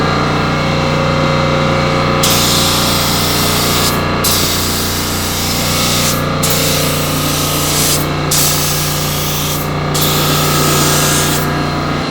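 Spray gun painting a 1979 Chevy K10 truck bed, loud hissing bursts of several seconds each with short pauses between, over a steady compressor-like hum, no talking.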